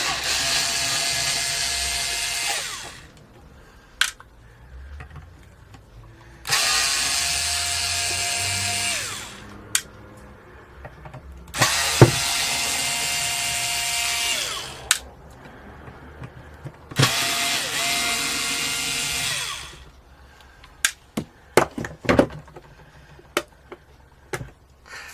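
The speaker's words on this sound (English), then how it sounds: "we need to unscrew the back. Okay, so let's get the back off." An electric screwdriver whirs in four long, loud bursts while backing out the screws of a Les Paul guitar's back cover, followed by sharp clicks and taps as screws are handled.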